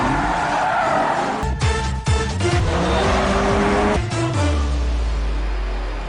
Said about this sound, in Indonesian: di tempat lain terlihat mobil yang sedang ngedrift dan dikendari oleh Fir